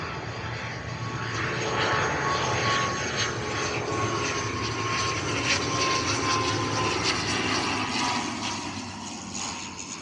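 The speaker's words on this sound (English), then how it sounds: "Aer Lingus ATR 72 coming in from Dublin to Bristol" An Aer Lingus ATR 72 turboprop airliner arriving at Bristol Airport from Dublin on approach over Felton Common, a sustained loud propeller drone with a steady whining tone holding through the whole passage.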